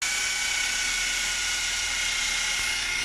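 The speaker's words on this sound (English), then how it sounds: "just drilled the pilot hole" A power drill boring a pilot hole in a car's floor for the mounting bolts of a seat's side mounts: a steady, loud, high-pitched whine that runs unbroken for the whole stretch, with no voices.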